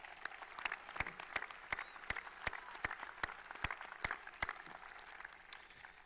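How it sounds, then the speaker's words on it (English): Scattered clapping at the Baylor class of 2025 graduation ceremony, distinct individual claps standing out over a quiet, distant wash of applause from a large audience. "Can we give them a round of applause,"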